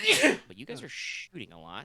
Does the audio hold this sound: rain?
no